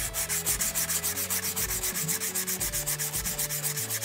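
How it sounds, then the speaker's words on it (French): Dry hand sanding with no water, a steady back-and-forth rubbing of abrasive in quick even strokes, close and continuous throughout with no talking. "je commence à poncer sans eau"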